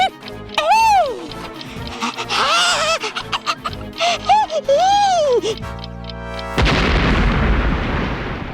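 An explosion effect in a Hindi superhero TV show bursts in as a loud, broad roar that follows a run of warbling, cartoonish voice-like sounds and a brief silence.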